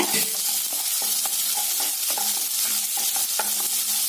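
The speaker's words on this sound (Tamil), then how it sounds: "ஒரு வரமிளகாய், கருவேப்பிலை, இது எல்லாம் நல்லா பொன்னிறமா வதக்கி விடலாங்க எண்ணெயில." Shallots, dried red chili and curry leaves sauté in hot oil with a steady close sizzle, while a spoon stirs and scrapes in a loose repeating rhythm for the whole stretch.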